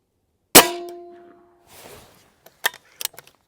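An airgun pellet from a Benjamin Bulldog rifle strikes a heavy AR500 steel target with one sharp ringing clang that hums and fades, followed by the target's rattling swing and a few smaller clinks.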